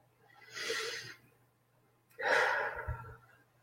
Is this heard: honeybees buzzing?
no